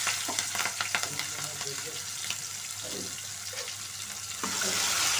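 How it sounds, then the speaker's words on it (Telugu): Onions frying and being stirred in hot tempering oil for a taro and egg curry, a steady sizzle with scraping stir strokes close by, the hiss brightening toward the end. "ఉల్లిపాయలు అయితే వేస్తున్నారు చూడండి."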